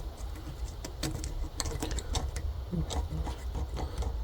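Hardened aircon oil and leak-test dye being rubbed off a Land Cruiser air-conditioning part before fitting a new O-ring, heard as faint, close, irregular scrubbing and scraping strokes with small ticks.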